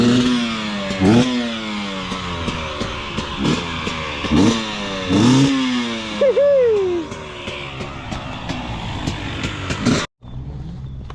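Dirt bike engine at a motocross track revving hard in repeated rising bursts with shifting pitch, close and loud, before cutting off abruptly near the end.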